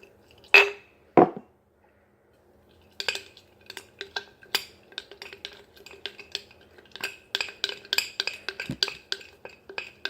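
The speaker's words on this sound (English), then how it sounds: "Stir, stir, stir." Neem and rose powder paste stirred in a bowl: a couple of knocks, a pause, then a run of quick clinking, scraping strokes of a utensil against the bowl, close and uneven in rhythm.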